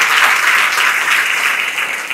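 A congregation at a Sabbath service applauds steadily to acclaim God, dense clapping from many hands filling the room at a consistent, loud level throughout.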